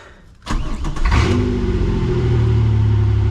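A Camaro with no exhaust fitted, running open off the Y pipe, cranks and fires after a fuel pump prime, then revs loudly and settles into a steady, raw idle rumble, close up.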